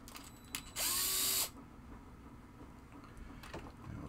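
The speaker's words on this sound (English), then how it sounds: "So we're going to take these two screws out first." A power drill spins out screws from a pinball machine in one short, loud whirring burst, followed by quiet clicks and handling noise, with no talking.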